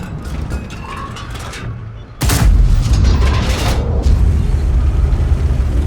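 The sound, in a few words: tank cannon fire in World of Tanks video game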